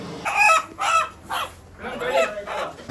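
Country chicken clucking and squawking loudly up close in several agitated bursts, as the bird is chased for purchase at a poultry shop.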